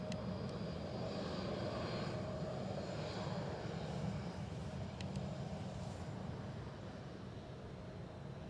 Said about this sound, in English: That helicopter has just snuck out in front of the Ryanair.